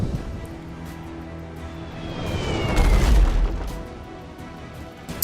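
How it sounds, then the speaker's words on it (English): Weapon barrage with flaming ammunition striking a ship in the video game Abandon Ship, a deep rumbling boom that swells to a heavy crash mid-clip and then fades over a steady background drone. "we've been struck by a weapon with flaming ammunition and the fire has broken out"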